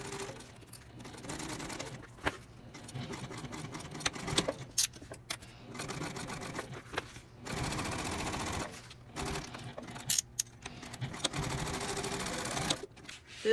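A sewing machine stitches across a tote bag panel in close, loud bursts of rapid mechanical whirring, stopping and restarting several times with short pauses between runs.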